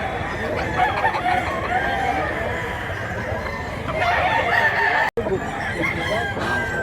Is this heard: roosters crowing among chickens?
yes